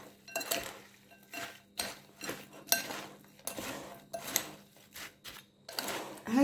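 A spoon stirs and scrapes food in a metal cooking pot for spaghetti with seafood, with irregular soft clinks and scraping strokes at close range, fairly quiet, with no talk.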